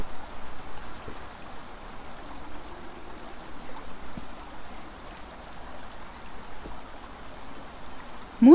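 Steady flowing river water in the video game Beyond Eyes, a continuous soft rushing and trickling wash under faint ambient tones, with a brief louder sound at the very end.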